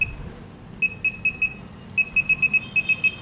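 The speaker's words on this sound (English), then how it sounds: "it makes nice beeping sound whenever you click on a button" A virtual laser projection keyboard gives short, clear electronic beeps as keys are pressed, a few spaced tones and then a quicker run of repeated beeps, close and alone over a faint background hiss.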